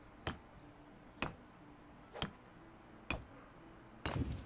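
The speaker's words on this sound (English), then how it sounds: "Hammer this bad boy in." Five evenly spaced hammer strikes ring out in the Medieval Dynasty video game as a building is knocked into place, each a sharp, clean knock about a second apart, with a faint tonal chime after some.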